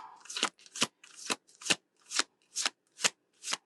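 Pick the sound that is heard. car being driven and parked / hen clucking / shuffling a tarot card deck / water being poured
shuffling a tarot card deck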